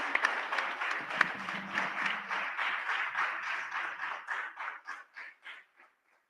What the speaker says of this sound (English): Can we get a big round of applause for our DFW Mandir,